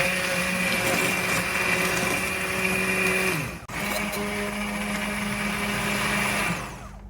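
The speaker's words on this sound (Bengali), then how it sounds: "5 মিনিট পর এটাকে আমি এখন হ্যান্ড ব্লেন্ডার দিয়ে ব্লেন্ড করে নিচ্ছি।" A hand blender whirs loudly and continuously through mushroom soup, dipping briefly for a moment midway before resuming its steady motor drone, then easing off near the end.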